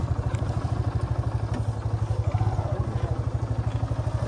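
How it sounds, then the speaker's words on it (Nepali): A motorcycle idles near Begnas Lake in Nepal while being parked, its engine putting out a steady, rapid low thumping pulse, close by, with faint outdoor background noise. "बाइक पनि यतै पार्किङ गरेर"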